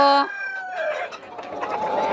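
Tiger chickens cluck and a rooster gives a short crow, close by on a rooftop farm, with scattered bird calls overlapping.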